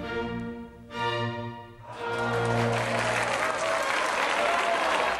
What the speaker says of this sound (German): War das ein Jubel? Hast du so viel Bravo und Bravo schon einmal gehört?